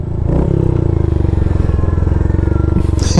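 A Royal Enfield Hunter motorcycle engine runs close and loud, its rapid pulsing putter steady as the bike rides along, with a brief clatter near the end.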